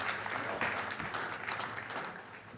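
An audience at a summit hall applauds chess legend Abhijit Kunte, a steady moderately loud round of clapping with no voices.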